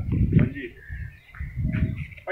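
Pigeons coo in low, throaty bursts at a loft of flying pigeons, two rounded rolling calls close by while someone talks over them.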